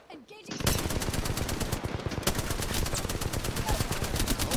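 Rapid automatic gunfire rattles in a fast, dense stream during an Apex Legends firefight, starting abruptly after a brief quiet moment and continuing loudly with a few sharper bursts.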